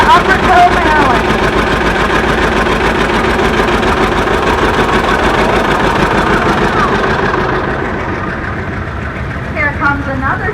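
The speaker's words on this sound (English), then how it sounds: "Here we got a John Deere. It is a 1951 RSN 8857." A 1951 antique John Deere tractor runs in a parade with a steady, rumbling engine drone that eases slightly toward the end, and a voice talks over it throughout.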